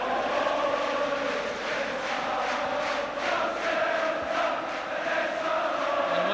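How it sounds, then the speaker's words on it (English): Celtic supporters in a 53,000-strong stadium crowd at a Scottish Cup quarter-final against Rangers chant and sing in a loud, sustained roar, with rhythmic pulses of massed voices rising and falling, heard from a distance. "the chanting and the singing and the cheering coming from these Celtic supporters"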